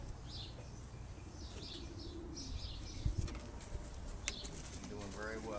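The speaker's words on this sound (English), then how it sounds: "Beautiful eye on this pigeon." A racing pigeon coos softly in a few faint, repeated low calls, with a brief flutter or scuffle amid quiet background noise.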